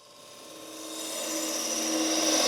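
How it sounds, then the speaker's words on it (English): A wood lathe turns a spindle blank with its grain parallel to the axis while a bowl gouge cuts the outside, giving a steady, close scraping whir that rises in loudness throughout. "So technically I'm turning a spindle, but I'm using bowl gouges to do it."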